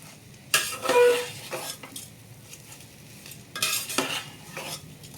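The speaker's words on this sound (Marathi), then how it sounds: "ह्याचं पूर्ण त्याच्यात परतून घेणार चांगल्या." Leaves being sautéed into spiced pea rice in a pan, two bursts of close spoon scraping and stirring with faint sizzling between them, no speech.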